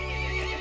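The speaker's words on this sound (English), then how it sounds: "The horse grew angry and summoned the other monsters." Horse neighing in the video game Resident Evil Village, a single loud, close whinny lasting under a second with no talk over it.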